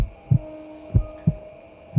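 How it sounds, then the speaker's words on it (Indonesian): Heartbeat sound effect in a horror story, four slow, deep thumps spaced unevenly over a faint steady hum, each beat a soft low thud standing alone. "Detak jantung kami semakin cepat."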